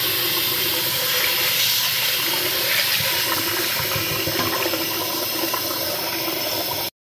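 Rice being rinsed under a running tap before cooking with jumbo shrimp and scallops in coconut milk: a steady, loud rush of water with sloshing grains, continuous for about seven seconds and then cut off abruptly.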